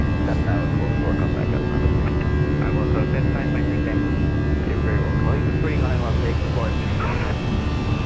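Steady jet engine roar from a simulated Airbus A319 climbing out of Las Vegas, a constant broadband rumble with a faint hum, heard continuously without pauses.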